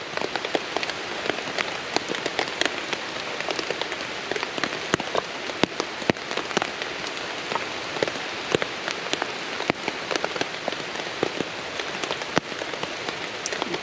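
Steady rain patters on surfaces outdoors at a bushcraft camp, a dense, continuous hiss punctuated by sharp individual drips landing close by.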